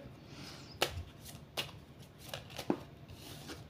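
Oracle cards being shuffled by hand: a few soft, separate riffling flicks over a quiet room background.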